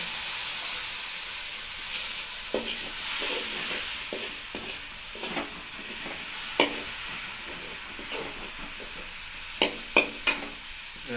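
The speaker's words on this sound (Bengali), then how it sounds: "সামান্য পরিমাণ জল দেওয়া হচ্ছে" Water added to a pan of frying bitter gourd, potato and pointed gourd sets off a steady hissing sizzle, with occasional sharp spoon clinks and scrapes from stirring, close and alone.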